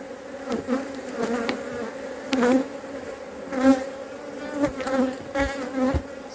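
Honeybees buzzing densely around hive frames as a beekeeper shakes them, a close, continuous swarm drone with periodic louder swells and thumps.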